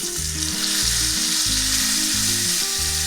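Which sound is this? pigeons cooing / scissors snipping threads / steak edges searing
steak edges searing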